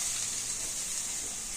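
Curry leaves and turmeric sizzle steadily in hot oil, a soft continuous frying hiss heard up close with no voices.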